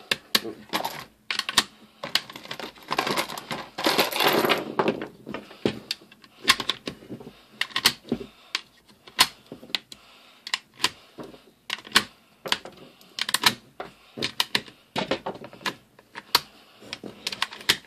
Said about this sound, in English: this new AKP mag is pretty easy and nice and smooth to load